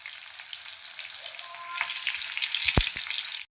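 Onions with curry leaves frying in a pan alongside fried okra give a crisp, crackling sizzle that builds in loudness, punctuated by a couple of sharp stirring knocks before cutting off abruptly.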